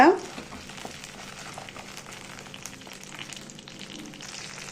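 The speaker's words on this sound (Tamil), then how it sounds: "அப்புறம் காஞ்ச மிளகாவும் பூண்டும் இதில் சேர்க்குறேன். இதை வதக்கி விடுங்க." Dried red chillies and garlic are sautéed in a pan for a South Indian chutney, with a quiet, steady sizzle and light stirring, after a brief clatter at the start.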